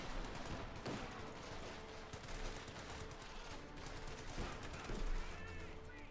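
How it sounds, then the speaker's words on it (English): Dense crackling small-arms and machine-gun fire in the World War II strategy game Company of Heroes 2, a continuous fusillade of rapid bursts at low level with a few stronger shots. "Bit of shooting there, bit of shooting there"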